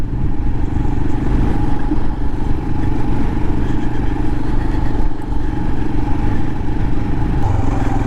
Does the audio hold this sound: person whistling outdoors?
no